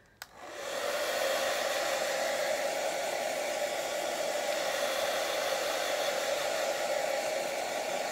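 A hair dryer switches on and blows a steady, close, loud rushing whoosh with a faint whine for several seconds, with no talking.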